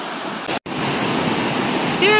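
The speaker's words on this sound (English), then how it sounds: "I'm climbing to the top of Huyck Falls in Rensselaerville, New York, and this is one of the cascades." Waterfall cascade at Huyck Falls in Rensselaerville, New York, roaring close and loud as a continuous rushing wash, cut briefly by a short gap near the start.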